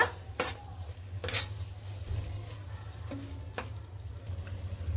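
Mint and coriander are stirred into a frying egg biryani mixture, a quiet low sizzle with a few sharp clicks of a spoon against the pot, close and otherwise steady.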